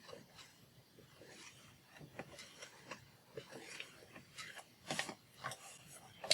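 Score tool dragged across paper or card to crease a line, soft scratchy rubbing strokes with light taps, quiet and close, some faint handling noise.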